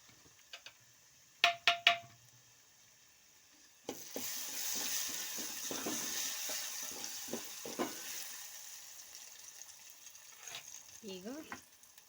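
Chili powder fries in oil with a soft steady sizzle, joined by scattered stirring scrapes and a few sharp metallic taps on the pan, all fairly faint.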